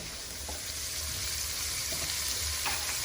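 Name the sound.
onions sauteing in hot oil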